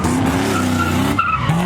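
A Ford Mustang roars up fast at a Los Angeles street car meet, its engine note rising in a steady harmonic drone as the tires skid and squeal, then a brief dip before the revving resumes close by.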